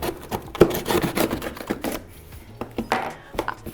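A serrated cardboard knife saws through a cardboard box in rapid, scratchy, uneven strokes up close, with short pauses between bursts.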